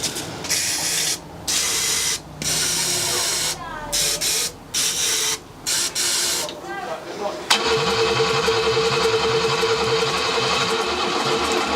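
An old BMW engine found abandoned in a barn cranks repeatedly on a struggling starter motor in several loud bursts separated by pauses, then catches into a rough, rhythmic running chug.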